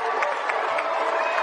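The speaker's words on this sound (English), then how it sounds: "Crowd will come to their feet at the Coliseum." A college basketball crowd roars at the Coliseum as Iowa State plays West Virginia, a dense, sustained wall of cheering with scattered claps and shouts, loud and continuous throughout.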